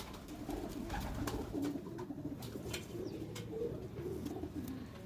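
Pigeons in a loft give a steady, dense murmur of overlapping coos that runs without a break, with no voices over it.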